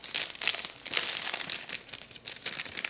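A plastic piping bag being folded over about halfway rustles and crinkles in close, repeated bursts, loud and crisp with no talking.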